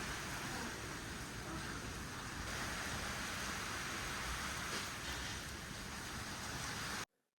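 Steady rain falls outdoors on a cold day at a hill spot, a constant soft hiss that fills the clip before cutting off abruptly near the end.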